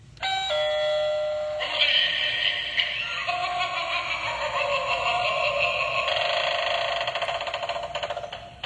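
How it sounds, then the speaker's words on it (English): An electronic doorbell rings, a short tone followed by a longer melodic chime tune, with faint giggling near the end. "It's a doorbell."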